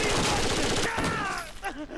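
Rapid pistol fire in the game Rainbow Six: Vegas, a dense, loud flurry of shots filling about two seconds and mixed with other action noise.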